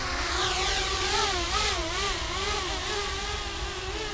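Small L160 RC aircraft electric motors held at full throttle, a steady loud whine that wavers in pitch throughout without a break.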